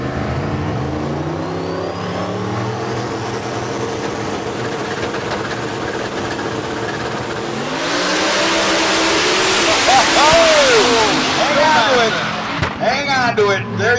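Drag racing cars launch off the starting line at a street car event, the small-tire class with a Mustang among them, engines droning at idle, then surging into a loud, roaring, rising acceleration, with an announcer talking over it.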